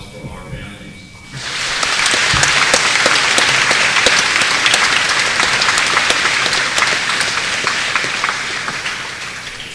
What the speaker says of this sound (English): it's very important that we all give a big round of applause for our families.